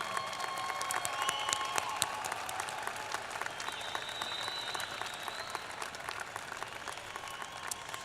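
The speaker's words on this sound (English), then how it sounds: "Let's give them a round of applause before we go into our ceremony." A large audience at a university spring commencement ceremony claps in sustained, dense applause, even and continuous throughout, heard from a distance in a big space.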